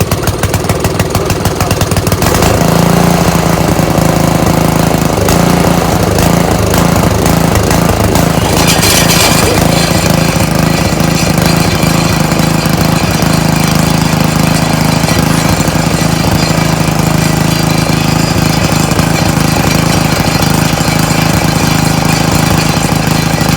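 Craftsman tiller with a Briggs and Stratton engine running loud and close, a continuous rattling small-engine drone with a steady rapid knock throughout.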